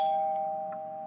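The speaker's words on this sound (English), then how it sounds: "That's another bell ringing." A cartoon doorbell gives a single clear, bright ding that rings out and slowly fades over about a second, alone and moderately loud.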